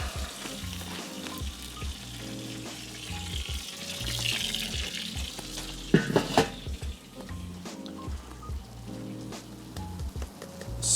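Rotisserie turkey sizzling and bubbling steadily on a Weber kettle grill, a continuous crackling fry-like hiss with a brief louder pop of spatter midway, no voices.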